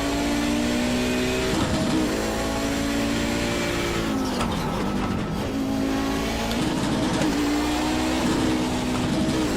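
Race car engine in iRacing droning loud and steady under throttle, pitch dipping and climbing as revs rise and fall, with no talk.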